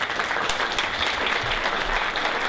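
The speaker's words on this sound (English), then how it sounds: "And a big round of applause for Anna and Spencer," Audience at a comedy magic show applauds volunteers with a brief, steady wash of many hands clapping, moderately loud and unbroken, with no voices over it.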